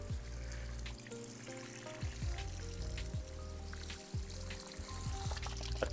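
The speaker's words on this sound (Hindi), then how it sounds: "अब इसमें मुझे सिर्फ पानी देना है" Water poured onto a freshly planted betel leaf plant, a steady splashing trickle running through the whole stretch at moderate, close-range loudness.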